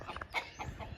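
An old red rooster and a newly introduced rooster of unknown breed clucking in a farmyard flock, a few short close clucks in a quick, uneven run.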